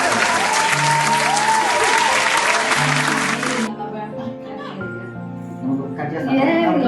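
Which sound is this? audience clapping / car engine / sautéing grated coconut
audience clapping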